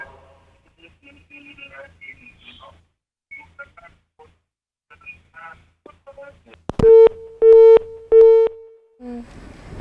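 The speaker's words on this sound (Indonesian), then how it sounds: "teleponnya terputus nih Ustazah" A telephone call drops and a busy tone starts: three loud, evenly spaced beeps follow several seconds of faint, broken speech from the line.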